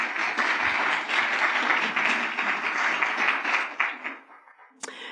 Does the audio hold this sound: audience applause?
yes